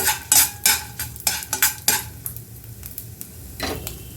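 Sundakkai and peanuts roast in ghee in a pan, stirred with a metal spoon that clanks and scrapes in quick bursts over a soft sizzle, louder early and then quieter, with no talking.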